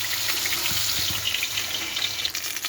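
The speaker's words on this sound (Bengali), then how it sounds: "এটাকে দিয়ে একটু কষিয়ে জল দিয়ে দেবো।" Water poured into a cooking pot of potatoes fried in spiced oil: a steady splashing gush close by, with faint sizzling beneath it, over a few seconds.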